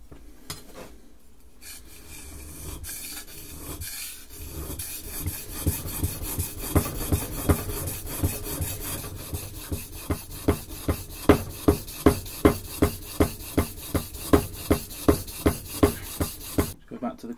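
Vintage Stanley plane blade being sharpened on an 8000 grit stone: soft scraping that settles into a regular back-and-forth rasp of quick strokes, close up, with a little talk early on.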